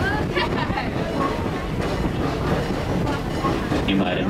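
The Busch Gardens Tampa tour train slows through a tunnel near the ostrich area, giving a continuous rolling rumble with rail clatter and scattered clicks, and faint voices in the background.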